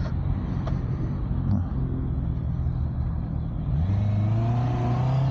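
Honda CB 650R motorcycle riding along with a steady, loud engine drone that rises in pitch toward the end as it accelerates, plus wind rumble, no talking.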